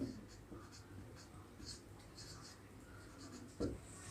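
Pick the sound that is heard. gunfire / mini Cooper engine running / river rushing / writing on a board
writing on a board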